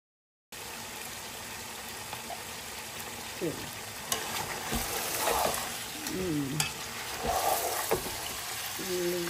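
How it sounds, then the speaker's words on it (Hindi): Tomatoes go into a hot pot of frying food and get stirred, a soft sizzle starting abruptly and carrying on with scraping, stirring movements and some gentle clinks close by. "चलो जी बिस्मिल्लाह करके ये अब टमाटर ऐड करते हैं।"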